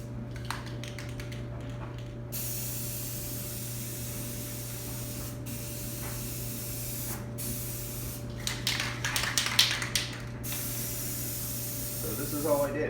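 Rust-Oleum spray paint hisses from a can onto LG heat pump sheet metal and plastic panels in several bursts, separated by short pauses, close and clear over a steady background hum.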